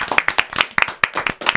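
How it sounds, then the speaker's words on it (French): Sparse, close hand claps from a small audience applauding a woman named Virginie, individual sharp slaps in an uneven rhythm over a brief moment. "je vous demande d'applaudir Virginie"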